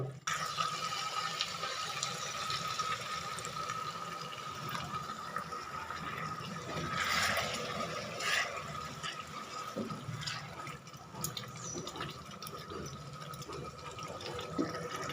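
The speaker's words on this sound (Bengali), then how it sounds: "এতে আমি দিয়ে দেবো সামান্য পরিমাণ গরম জল" Hot water poured into a pot of Kolkata-style chicken curry, a continuous soft splashing and trickling stream at close range with no talking.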